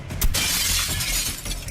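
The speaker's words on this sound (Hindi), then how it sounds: "ये कांच तो चकनाचूर हो गया" A pane of glass inside a bank shatters in one loud, sharp burst, followed by a steady crashing wash of breaking shards and debris.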